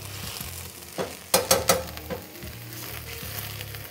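Vodka sauce sizzling hard in a pan as the alcohol cooks off, stirred with a few loud bursts of crackling and spatter in the middle, then settling to a steadier low frying.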